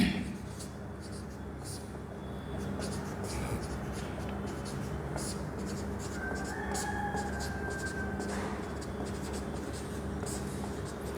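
A pen scratches steadily across paper as a definition is written out by hand, a close continuous scribbling with small irregular strokes under soft room noise.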